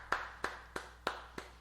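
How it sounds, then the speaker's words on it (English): Five slow, evenly spaced claps ring out alone in a quiet room, a deliberate slow clap welcoming a DJ onto a nightlife music show. "So, ladies and gentlemen, let's put our hands together."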